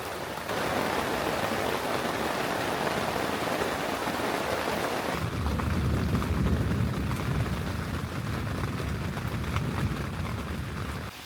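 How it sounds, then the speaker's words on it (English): Steady, dense rain hisses without pause over a hammock campsite in a storm, then grows heavier and deeper halfway through as the downpour intensifies. "Wow, the rain just got worse."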